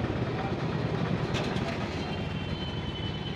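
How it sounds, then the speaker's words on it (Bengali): A train rolls past the closed Ashoknagar level-crossing gate in a loud, continuous, close rumble with a brief rattle of wheels partway through. "এই যে ট্রেন চলে গেল"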